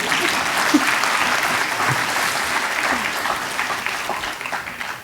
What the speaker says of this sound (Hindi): सिर्फ गोगटे सर ने ताली बजाई।